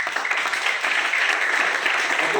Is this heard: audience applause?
yes